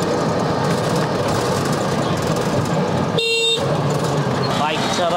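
Auto-rickshaw engine rattling steadily during a ride toward Himchhari hills and waterfall, with a short sharp horn blast partway through and another brief honk near the end; people talk over the engine noise.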